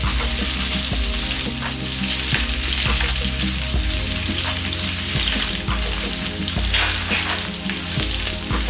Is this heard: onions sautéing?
yes